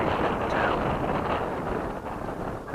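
Strong wind buffets an action camera's microphone in a continuous rumbling roar, loud and close, with no voices heard.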